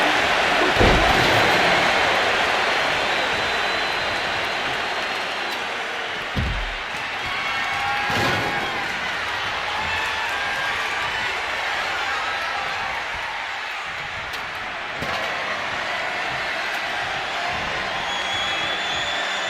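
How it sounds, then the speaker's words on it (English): Roaring arena crowd in the WWE 2K25 wrestling video game during a Randy Orton versus Roman Reigns match, a loud steady wash of cheering that holds throughout with a few sharp bursts. "This crowd is thunderous right now."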